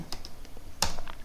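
Quick, light keystrokes on a computer keyboard, a brief burst of a few close clicks typing into a Firefox address bar, with faint room noise beneath.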